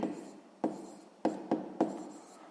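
A pen scratches across paper during a sixth-grade maths exercise, soft and close, with a few sharp taps as the pen touches down between strokes.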